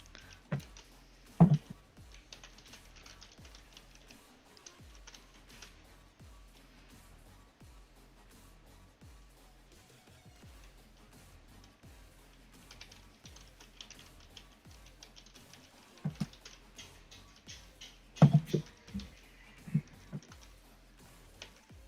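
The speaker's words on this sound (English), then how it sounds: "I'm going to type what they say to you." Steady clicking of keys on a computer keyboard, light and close, with a few louder taps and clacks scattered through the run of typing and no talk over it.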